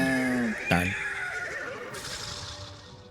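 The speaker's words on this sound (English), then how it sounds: "The horse is displeased." A horse whinnies with a displeased, descending neigh as a game show sound effect, loud and close, followed by a brief sharp hit and a fading bright tail.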